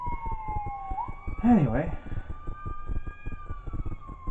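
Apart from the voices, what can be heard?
fire department sirens in the distance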